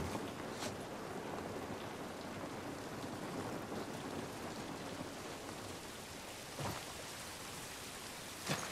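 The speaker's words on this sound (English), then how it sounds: "This rain ain't gonna do us any good." Steady heavy rain hiss in The Last of Us Part 1 fills the whole stretch, with a couple of brief louder spatters, no voices.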